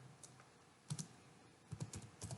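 Keys clack on a computer keyboard in short bursts of a few quick strokes separated by pauses, close but quiet, with no voices.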